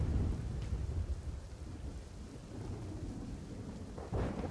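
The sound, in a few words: heavy monsoon rain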